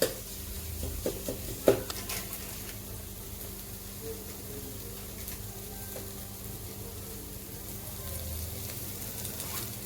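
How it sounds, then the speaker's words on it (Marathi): Pav bhaji masala frying in oil in a pan for Mumbai street-style pav bhaji, a low steady sizzle with a sharp clink of a utensil early on, then a quiet even fry throughout. "छान तेल सुटेपर्यंत मसाला आपण परतून घेऊया"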